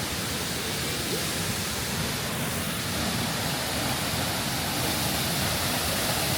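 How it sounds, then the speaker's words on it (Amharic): A waterfall roars as a dense, continuous rush of falling water, loud and close, filling the whole clip without pause or voices. "ፏፏቴ ጋር ደርሰናል"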